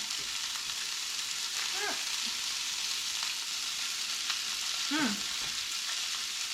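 Kingfish mackerel fries in a pan with a steady, close sizzle, broken by two short scraping turns as the fish is flipped; no one speaks.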